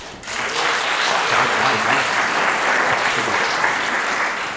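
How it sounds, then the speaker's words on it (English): A full audience round of applause at a brand-building business talk, dense and loud, starting abruptly and holding as a steady wash of many hands clapping for several seconds with no talking. "Let's give a proper round of applause for that."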